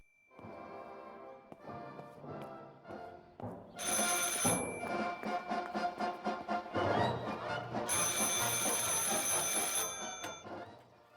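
An old telephone rings in the psychological horror game Martha Is Dead, loud and close, with repeated bright bell bursts and no voices over it.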